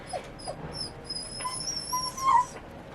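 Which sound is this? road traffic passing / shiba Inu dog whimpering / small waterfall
shiba Inu dog whimpering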